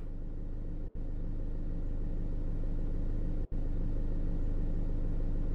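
A car engine rumbles in the video game Tempus Triad, a steady low idle drone that holds at an even level with two tiny dropouts and no talk.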